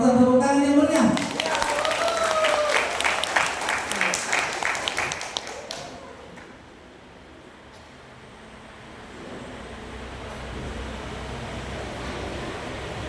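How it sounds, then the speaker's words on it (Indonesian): An audience at a Quran competition final claps for several seconds, the applause starting under talk and fading out, followed by quieter room ambience. "Yo, penonton tepuk tangan yang meriah."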